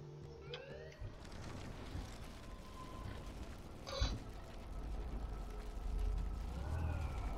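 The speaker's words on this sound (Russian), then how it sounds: "Сюда едут полиция и пожарные со всего Аркадия Бэй" Police and fire engine sirens wail in the video game Life is Strange, set in Arcadia Bay, a continuous rising and falling blare over a busy noisy background with no speech.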